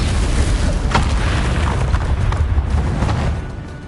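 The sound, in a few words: Confringo spell blast from a video game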